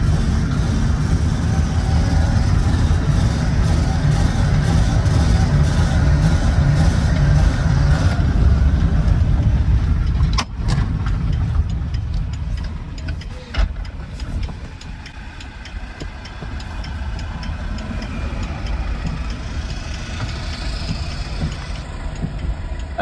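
An old car's engine labours loudly and steadily as it strains to climb a hill, with the drone weakening and faltering partway through before a rougher, quieter running continues to the end.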